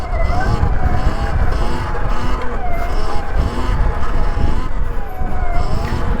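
A Sur Ron electric dirt bike rides a wheelie with regenerative braking on, giving a steady, loud whining drone with wind and road rumble throughout, close and continuous.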